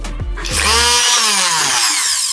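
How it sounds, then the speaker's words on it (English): A stick blender revs up loudly and runs steadily, a high-pitched buzzing drone close by. "Stick blender, our trusty stick blender."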